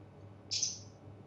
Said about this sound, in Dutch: ik hoor een vogel.